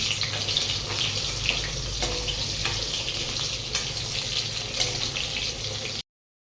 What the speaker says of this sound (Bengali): আলু ভাজা তো ফ্রাই হয়ে গেছে আমার